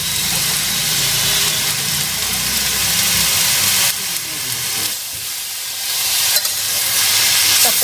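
Greens (shak) fry in a pan as the liquid cooks down, giving a steady loud sizzle and hiss with occasional stirring scrapes; the sound thins briefly midway before building again.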